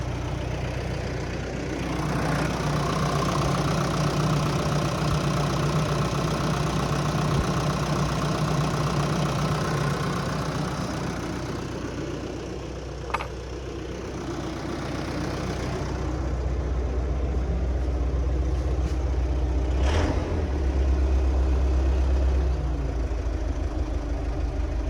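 A DTZ 5504 tractor engine idling steadily after starting, a close, loud diesel rumble that runs continuously throughout, with no talking.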